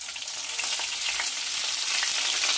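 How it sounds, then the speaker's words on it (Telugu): Lentils and dried red chillies fry in oil in a pan for a coconut chutney. The sizzle is dense, loud and steady, with crackling and faint stirring running all the way through. "ఇవన్నీ కొంచెం దోరగా వేయించుకుందాం. నెక్స్ట్ మనం తీసి పెట్టుకున్న ఎండుమిర్చి కూడా వేద్దాం."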